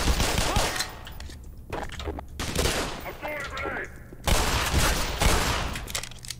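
Rapid gunfire in the video game Black Mesa, loud bursts of shots and automatic fire that fill most of the clip, with a player talking between and over the volleys.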